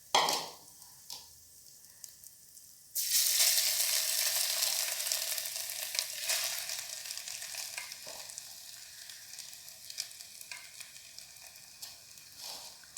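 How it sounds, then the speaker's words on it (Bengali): Spices fry lightly in hot oil for Maggi noodles, with a steady, bright sizzle that starts abruptly and then holds, along with occasional stirring scrapes close by and no voices. "এবার আমরা একটু তেলটার মধ্যে মশলাটা একটু হালকা ফ্রাই করে নিয়ে আমরা আমাদের ম্যাগিটার মধ্যে ঢেলে দেবো।"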